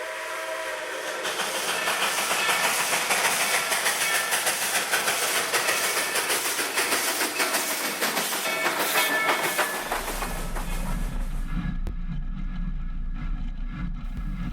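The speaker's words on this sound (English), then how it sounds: "We're riding on the running board of T&P number 316, heading east toward Dean Wright." Steam locomotive T&P No. 316 on the Texas State Railroad runs steadily with loud, continuous chuffing and rail clatter heard from the running board, and a deep low rumble takes over near the end.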